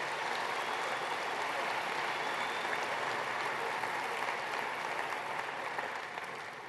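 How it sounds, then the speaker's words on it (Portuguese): A church congregation claps continuously, a dense, even wash of applause that holds steady and fades slightly at the end. "Aplauda Jesus."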